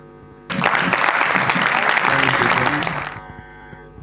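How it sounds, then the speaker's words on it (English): A conference audience breaks into applause to welcome a professor, clapping starting abruptly, holding loud and dense for under three seconds, then fading out quickly. "Please a round of applause for our professor."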